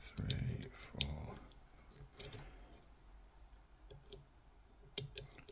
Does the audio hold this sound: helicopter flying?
no